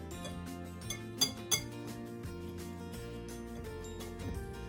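A bowl of dry ingredients for Jamaican spice bun being stirred, with a few sharp clinks of utensil on the bowl over a steady music bed, quiet and close.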